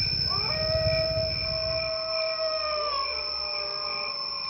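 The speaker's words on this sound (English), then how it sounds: "The figure appears just as a wolf begins to howl in the night." A long, wavering wolf howl rises and slides slowly in pitch, sustained over a steady background hum, eerie and fairly loud.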